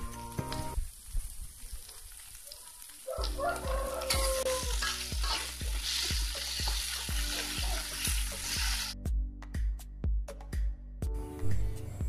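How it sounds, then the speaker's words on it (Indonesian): Tofu and green chilies sizzle in a hot pan while a utensil scrapes and stirs in a steady, repeated rhythm, close up and without speech. "Tumis sampai bumbunya harum."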